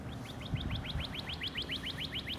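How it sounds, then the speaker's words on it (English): A bird repeats a quick series of rising chirps in an even rhythm, over a low rumble of outdoor background noise. "And there's a sparrow sound."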